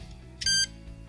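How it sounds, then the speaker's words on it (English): A single short electronic beep from an Ottobock Kenevo prosthetic knee joint confirms its completed self-test, sounding clear and alone over a quiet background. "Hold the knee joint still until a single beep and vibration signal confirms that the self-test has been completed successfully."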